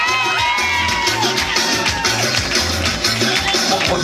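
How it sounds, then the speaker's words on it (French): Audience applause and cheering for a dancer from a dance team at a live show, a dense crowd roar with whoops running steadily over a thumping rhythmic music beat. "Applaudissements pour Edina Rayana du Capos Team."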